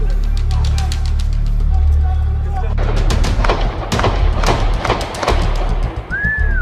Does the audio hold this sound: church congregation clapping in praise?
no